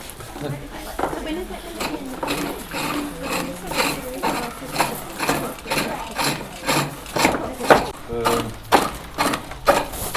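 Ash wood is turned on a lathe at a medieval fair, the cutting tool throwing shavings in repeated rhythmic rasping, scraping strokes, fairly close and loud.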